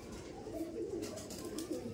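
Rampuri pigeons kept in cages give soft, low, rolling coos, fairly faint and repeated several times over two seconds without talk.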